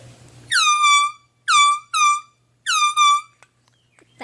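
An air horn blasts five loud, close honks near a golf course: one long, two short, then a pair in quick succession, with quiet gaps between.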